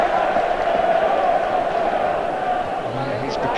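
Applause and crowd noise roll around a football stadium as a player at a 1998/99 Leeds United match acknowledges the fans, a broad steady roar under a commentator's voice.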